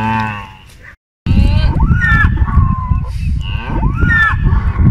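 Cows in the Ecuadorian countryside give drawn-out, wavering moos, several calls in a row, loud and close, with people talking over them.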